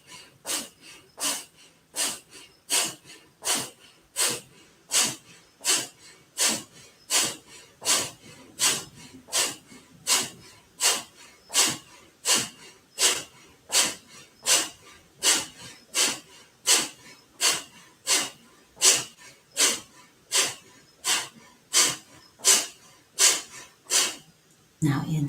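Rapid Breath of Fire breathing through the nose, about forty sharp rhythmic exhale puffs at a steady quick pace, close and loud with no talking over them.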